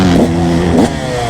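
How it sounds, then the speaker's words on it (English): A two-stroke engine running too rich on a fresh spark plug with a tuned carburetor, loud and close, sputtering and surging unevenly in a brief burst with a rough, rising-and-falling note. "It's sputtering like a motherfucker now."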